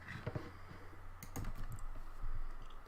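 Keys clatter on a computer keyboard as a chmod command is entered in a Linux terminal: scattered close clicks, a few quick bursts, quiet and with no talk.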